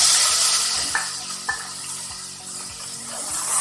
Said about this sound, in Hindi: चिकन हमारा फ्राई हो गया